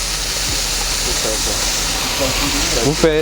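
Pre-boiled salted water is poured into a hot saucepan for cooking curries, giving a steady sizzling hiss with bubbling crackles that build toward a louder gurgle at the end.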